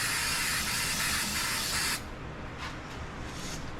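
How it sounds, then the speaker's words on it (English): An aerosol spray can hisses loudly for about two seconds while lining the inside of a homemade lantern case, then stops abruptly, followed by a few short, quieter bursts. "It does spray kind of wonky."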